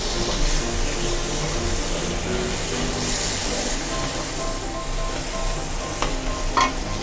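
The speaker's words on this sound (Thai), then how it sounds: "ตอนนี้กะปิหอมแล้วนะครับ ผมใส่กุ้งครับ" Fresh shrimp frying with shrimp paste in a hot pan, a loud continuous sizzle with steady stirring close by, a brief sharper hiss near the end.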